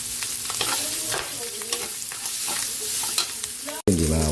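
Garlic sizzling as it is sautéed in a frying pan for a Filipino dish of stir-fried bean sprouts, with steady frying hiss and occasional stirring scrapes, close and continuous, no talk.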